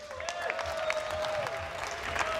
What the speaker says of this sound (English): Please, a round of applause for being so great today